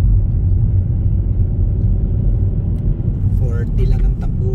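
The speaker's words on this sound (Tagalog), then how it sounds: "bumper to bumper ng traffic" Cars crawling in bumper-to-bumper traffic near a city where roadworks are underway, heard as a loud, steady low rumble of engines and tyres from inside a vehicle, with faint passing sounds toward the end.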